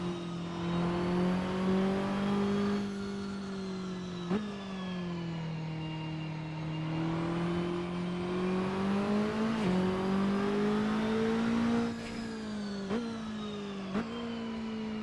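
A Saleen S1 GT4 race car in the Assetto Corsa sim on the Reservoir Chicane track, a steady loud engine drone with rising and falling revs and several quick gear-shift blips, heard alone.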